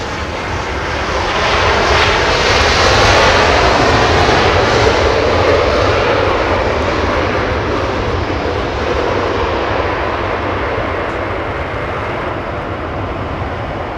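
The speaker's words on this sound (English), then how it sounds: "Delray 24 left, clear for takeoff" A jet airliner takes off from runway 24 left at Los Angeles International Airport, its engine roar loud and broadband, swelling in the first seconds and holding steady, sustained and close, with no talk over it.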